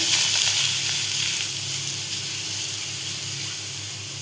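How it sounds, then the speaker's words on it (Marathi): Milk hits a hot pan and sizzles loudly and steadily, a dense frying hiss that eases slightly as it settles, with no talking, while making a creamy bread dessert. "आता त्याच पॅनमध्ये दूध टाकतो आपण"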